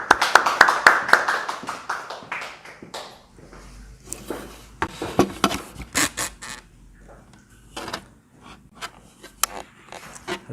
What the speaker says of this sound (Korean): 우리 나오실 때 우리 큰 박수로 환영해 드리겠습니다